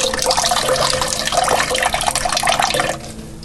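Tap water runs steadily over cottage cheese curd held in a bag, a close, continuous splashing and trickling rush that softens slightly at the end.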